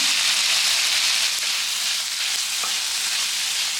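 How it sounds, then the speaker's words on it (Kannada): Masala with coriander, mint and grated coconut frying in a pan for chicken sambar, a loud, dense, continuous sizzle with faint stirring scrapes underneath. "ಮಸಾಲ ಉಜ್ಕೊಂಡಿದ್ದಾಯಿತು"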